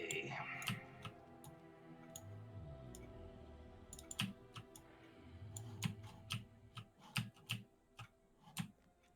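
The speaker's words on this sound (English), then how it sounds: "If my keyboard clicking gets too annoying, just let me know." Mechanical computer keyboard typing heard at close range as irregular sharp clicks and clacks, sparse at first and then in quicker bursts, over a low background hum from a gaming session.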